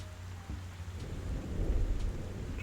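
Rain and rolling thunder in the Animal Crossing video game, a steady low rumble with continuous rain hiss that swells louder toward the middle.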